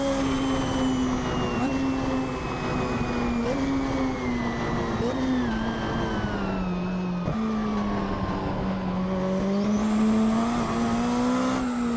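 A Lancia HF Prototype race car with about 900 horsepower roars around the Nordschleife, its engine a loud, steady drone that rises and falls slightly through gear changes and corners for the whole stretch, with no talking.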